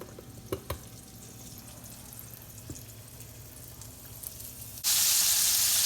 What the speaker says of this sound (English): These steaks have been cooking for about 2 to 3 minutes each side